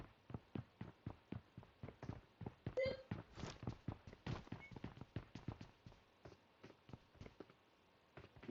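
Rapid, regular footsteps from the video game PUBG Mobile, a dense run of sharp thuds continuing steadily throughout, fairly close, with a brief tonal blip partway through.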